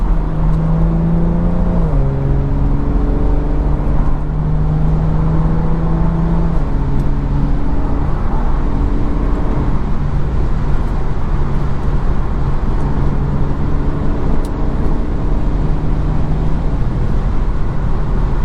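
BMW 340i with a B58 engine accelerating hard on a road, a loud, steady engine drone close up whose pitch climbs through several gears in rising sweeps, each followed by a drop at the shift, with no talk over it.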